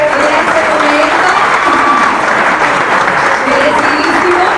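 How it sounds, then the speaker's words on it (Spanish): A press-conference audience breaks into sustained loud applause for a singer's official career launch, dense steady clapping filling several seconds with crowd voices mixed in. "Bien, Marta, vamos a darle un aplauso en este momento."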